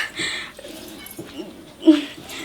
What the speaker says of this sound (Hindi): भर हंडी के दाल में तो कुत्ता मुंह घुसैले छै, पूरा थुथना में घुसैले छै।